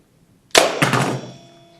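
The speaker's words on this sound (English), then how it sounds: "To load it, you simply rack back the slide, and the round is automatically chambered, and then I can fire away" A single sharp thunk of a slide-loaded slingshot firing, close and loud, with a short rattling tail that fades out within about a second.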